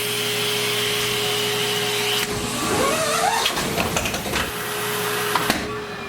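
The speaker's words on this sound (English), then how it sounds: "You can go up to 50 feet, turn it on, and now you have a central vacuum" A Hide-a-Hose central vacuum system runs with a steady loud drone while its hose retracts into the wall inlet, giving a rising whooshing, rattling suction sound partway through and a couple of sharp clicks near the end.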